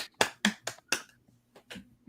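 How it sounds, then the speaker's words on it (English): Sparse, soft golf clap after a Diplomacy tournament win: about seven light, separated claps at an uneven pace, quiet and close with no talking. "Golf clap"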